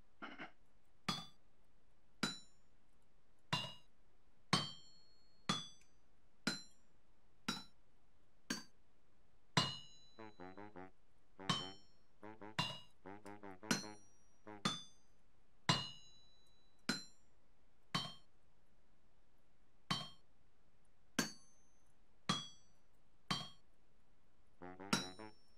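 Metal chiseling in the Vintage Story game, a steady series of sharp, bright clinking strikes roughly one per second, with a few rapid scraping bursts between them, close and clean with no talk.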